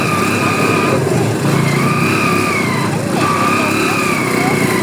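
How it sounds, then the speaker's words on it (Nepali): A wailing siren rises and falls in repeated sweeps over steady engine and traffic noise at Chhetrapati Chowk in Kathmandu, with motorbikes passing and voices in the background. "हजुरहरू सबलाई एउटा साइरेन सुन्नुपर्छ"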